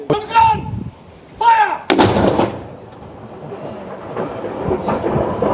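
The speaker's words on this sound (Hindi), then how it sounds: "मैं आपको दिखाता हूँ किस तरह यहाँ पर माल्टा की जो तोपों को आग लगाते हैं दोपहर को 12 बजे और 4 बजे" Cannons fired at noon in Valletta, Malta: a deep, booming blast with thunderous rumble that rolls on for a few seconds, preceded by two short brassy calls and followed by faint crowd murmur in the distance.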